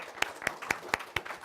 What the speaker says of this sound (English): So want to applause one more time for my speakers here.